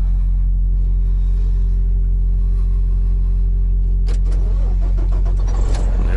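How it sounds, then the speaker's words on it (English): A semi truck engine cranks and fires about two-thirds of the way in, with a burst of starter noise settling into a low idle rumble, close and alone after steady low cab hum. "Let's start the engine first."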